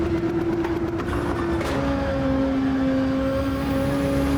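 A car engine accelerates in Gran Turismo, revving steadily with a clear pitch that climbs, drops at a gear change and rises again. The sound is close and continuous with no talk over it.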